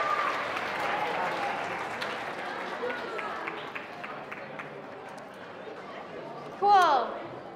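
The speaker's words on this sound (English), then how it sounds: "So let's give another round of applause to our winners." An audience at a 2022 regional school competition awards ceremony applauds the winners with broad, steady clapping that holds through most of the stretch and then fades, with a brief louder burst near the end.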